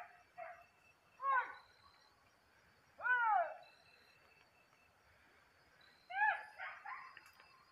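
Hunting dogs on an armadillo hunt give high yelping, whining cries in three separate bursts, distant over quiet outdoor background.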